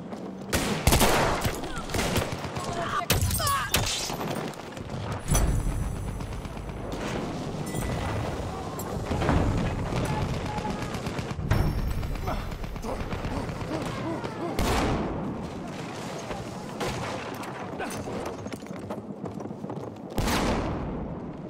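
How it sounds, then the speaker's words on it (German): Enemy machine gun fire in a World War shooter, with dense bursts of rapid shots and heavy booms recurring through a noisy battlefield, voices calling out over the din. "Feindliches Maschinengewehr!"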